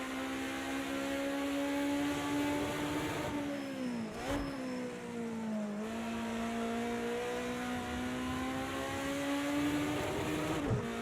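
A BMW 2002 Stanceworks Edition race car in Project CARS 2 at Bathurst, its engine droning at high revs with pitch dips and rises through gear changes and corners, loud and continuous with no talk.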